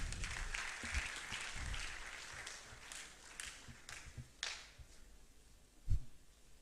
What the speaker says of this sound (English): Applaud them as they take the stage